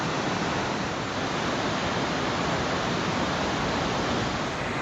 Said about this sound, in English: Such a beautiful waterfall with huge walls around it